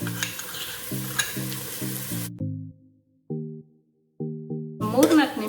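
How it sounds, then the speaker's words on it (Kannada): A paste of mint, coconut, coriander and ginger-garlic with fenugreek leaves sizzles in a pan, a short burst of frying hiss under melodic tones that then drop out into near silence. "ಮೂರು 4 ನಿಮಿಷ ಇದನ್ನ ಚೆನ್ನಾಗಿ ಫ್ರೈ ಮಾಡ್ಕೊಳ್ಳಿ."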